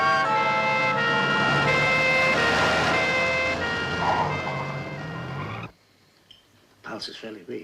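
Ambulance siren blaring loud and steady with a rising and falling wail, then cutting off abruptly, followed by brief talk.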